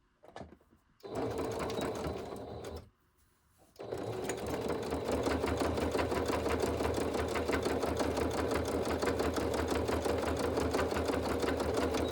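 A sewing machine runs steadily while stitching a fabric folio, with a short burst, a brief pause, then a long continuous run of rapid needle strokes at close range.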